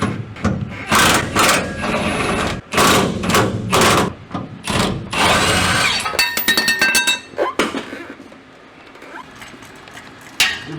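Air impact tool spinning out the 9/16 bolts on the centre support of a two-piece drive shaft on a 1988 Ford F-150 4.9L, heard as loud repeated hammering bursts with short pauses, then lighter clinking of sockets and metal.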